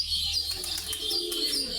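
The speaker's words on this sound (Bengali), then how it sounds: "এখানে বাজি দেওয়া কবুতর আছে, এই গিরিবাজ কবুতর" Giribaj pigeons at a loft coo and chirp close by, a continuous soft cooing with faint wing flutters and no talk.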